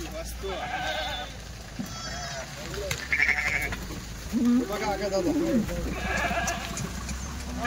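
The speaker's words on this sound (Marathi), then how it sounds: "हे बघा मेंढ्या." Kathiawari sheep bleat at a livestock sale, several wavering cries rising mid-way amid farmyard clamour while someone talks nearby.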